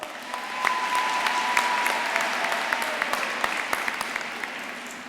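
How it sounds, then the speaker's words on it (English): Sustained applause from a graduation ceremony audience, a steady wash of many hands with a few sharp individual claps standing out, moderately loud and continuous. "Now really, that needs another round of applause."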